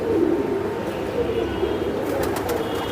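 Soft, low cooing of caged Giribaz racing pigeons at a farm repeats in a steady murmur, close by, with some faint background clatter and no clear speech.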